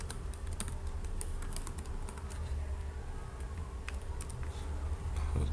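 Steady, close typing on a computer keyboard as code is written. The key clicks come in quick, uneven bursts over a low constant hum, with no voice.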